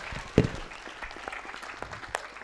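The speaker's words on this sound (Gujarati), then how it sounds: "જોરદાર તાળીથી આ બધા કલાકારોને બતાવી લેજો." An audience applauds child performers after a devotional stage play, with a steady patter of many hands clapping and one sharp, loud clap near the start.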